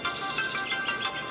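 A Samsung Galaxy S3 ringtone on a white handset plays as a bright, bouncy electronic melody with chiming tones, loud and close, with no talk over it.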